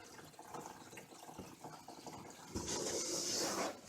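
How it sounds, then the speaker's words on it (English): Water rushes steadily into an RV fresh water tank, a soft, hollow filling hiss that swells louder toward the end, with no talk. "I've been filling this water tank now for about 15 minutes"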